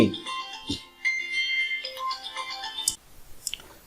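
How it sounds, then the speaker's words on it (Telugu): A mobile phone rings with a melodic, tonal ringtone for an incoming call, its tones sounding in bursts while a voice talks over it. "సారీ ఫ్రెండ్స్, కొద్దిగా కాల్ వచ్చింది అంతే"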